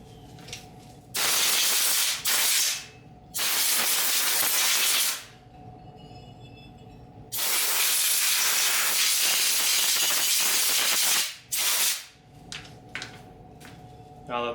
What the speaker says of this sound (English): First things first, we're going to blow this off with air.